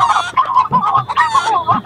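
A voice imitates a chicken clucking in an excited, scolding burst of rapid, nasal clucks and squawks, loud and close for about two seconds with no other talk.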